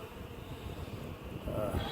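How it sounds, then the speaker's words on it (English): Saskatraz-queen honey bees hum steadily at their hive during a spring check, with a dense continuous buzz close by and a few louder passes near the end, no voices. "There's some bees up there storing."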